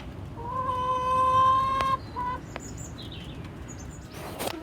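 A hen gives a drawn-out call up close, then a few short clucks, over a quiet background.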